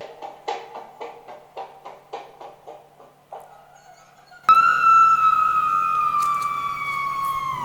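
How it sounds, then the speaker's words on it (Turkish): Rhythmic short vocal shrieks repeat, then a long, loud, sustained high scream wavers and slowly falls. "Örnek vereceğim bana bir adet çığlık sesi lazım"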